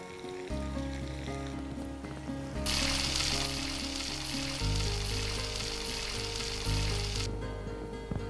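Vencobb chicken muttilu deep-frying in oil, giving a continuous, close bubbling sizzle that swells louder at times over a background of steady music.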